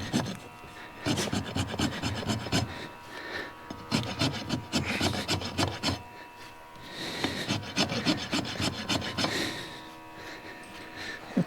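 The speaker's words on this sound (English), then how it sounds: "But maybe I can take it off with a rasp right here." A steel rasp files down a horse's hoof during its first shoeing, trimming so a toe clip will fit: close, rhythmic scraping strokes in steady bursts with brief pauses.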